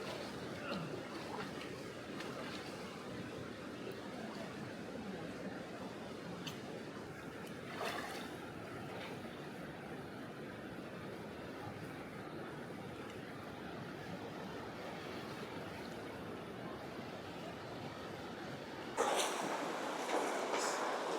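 A creek tumbles through rapids in a Zion canyon in southern Utah, making a continuous, moderately close rushing wash of water with a sudden louder splash near the end.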